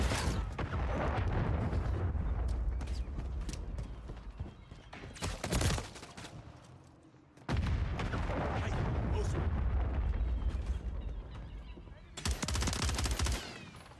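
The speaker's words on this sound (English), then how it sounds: "Throwing grenade!" Video game combat with a grenade and airstrike blasts: loud bursts of gunfire and explosive rumble come in long heavy stretches, broken by short sharp crashes and brief lulls, with voices mixed in.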